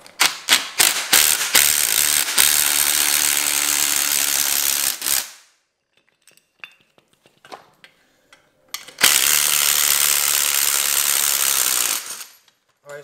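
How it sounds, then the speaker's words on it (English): A ratchet wrench opens a coil spring compressor on a BMW F30 340i rear suspension during a spring swap, giving loud, rapid clicking bursts that run for several seconds, stop for a pause, then start again. "but you can open your spring compressor."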